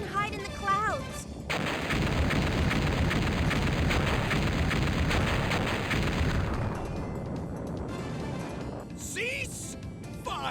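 Airship cannons fire in a sustained barrage during a sky battle in Mega Man Legends, a loud dense roar of blasts that later thins out, with game voices heard at the start and end.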